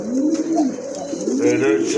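A male Satin pigeon, red bar in colour, gives repeated low, rolling coos close by, with soft background murmur.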